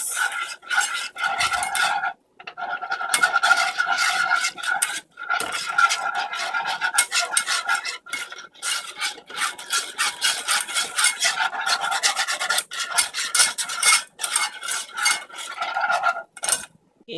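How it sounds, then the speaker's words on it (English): Milk being whisked into a from-scratch cheese sauce for lasagna, the whisk scraping and clinking briskly against the pan in fast, continuous strokes with a few short pauses, close and fairly loud, with no talking. "you keep adding milk a little at a time, and you're gonna whisk it to get rid of the lumps"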